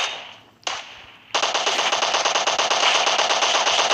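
In the mobile battle royale game PUBG Mobile, a couple of single shots are followed by a sustained burst of rapid automatic fire, close and loud, with sharp rhythmic cracks running to the end.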